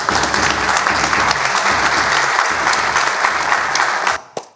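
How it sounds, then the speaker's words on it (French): An audience on a French television set claps loudly for a guest, a dense, steady roar of applause that stops abruptly near the end. "On l'applaudit."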